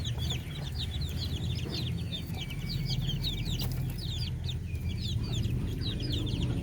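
A flock of darag native Filipino chickens clucks and calls steadily over a loud, constant background hum, many birds overlapping throughout.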